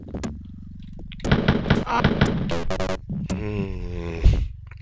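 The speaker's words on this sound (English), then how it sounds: "Oh shit, who's shooting me?" Gunfire in the first-person shooter Wolfenstein 3D, a string of sharp retro digital shots bursting out loud and close, with a voice speaking over and between the shots.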